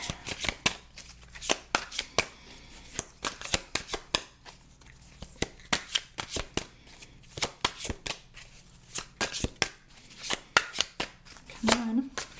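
Tarot cards are shuffled by hand in quick, crisp riffling clicks and snaps, close to the microphone and repeating in irregular bursts, with a quiet voice speaking between them.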